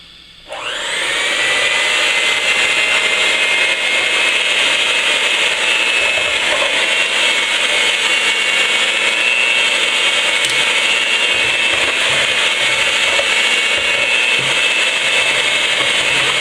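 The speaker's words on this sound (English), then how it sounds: "I'm going to start beating my eggs." An electric mixer beats eggs for a pumpkin pie, starting up abruptly and whirring steadily at a high, constant pitch for the whole stretch, loud and close with no talking.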